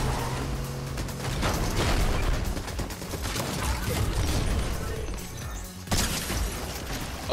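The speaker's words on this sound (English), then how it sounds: "Hear the shots." Gunfire rattles through a Fortnite match, dense bursts of shots and mechanical clatter layered together, loud and busy throughout, with a sudden break and renewed hits near the end.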